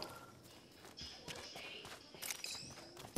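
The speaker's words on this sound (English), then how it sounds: "footsteps" Character footsteps in Apex Legends, a quick run of soft, close steps building in loudness over a few seconds, with faint game ambience behind.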